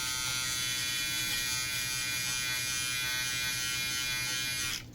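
A Brightup rechargeable hair clipper and beard trimmer runs with a steady, close electric buzz that holds evenly for several seconds before cutting off at the end, with no talking.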